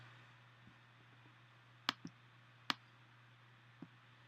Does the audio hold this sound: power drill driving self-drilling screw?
no